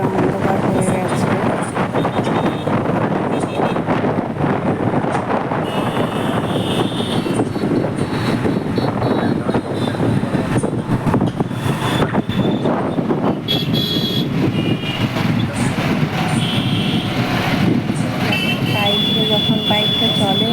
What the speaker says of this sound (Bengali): যখন বাইকটা চলে, হাওয়া চলে,